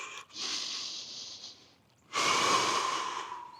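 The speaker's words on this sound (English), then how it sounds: "I'm just trying and stay calm and be in control of my breathing." Heavy, ragged breathing from someone shivering in freezing cold water: a long noisy breath, a short pause, then a louder, rougher breath, close up and alone.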